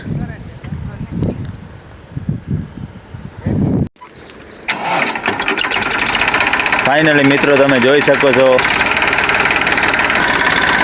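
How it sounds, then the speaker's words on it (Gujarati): Someone talks briefly, then a GPS-guided sowing tractor's engine starts and settles into a loud, steady diesel chugging that continues to the end. "જીપીએસથી ચાલતું ટ્રેક્ટર વાવણી કરવા માટે."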